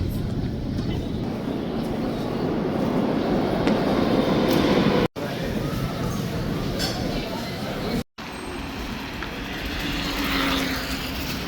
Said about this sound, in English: That is the metro station, Universitet.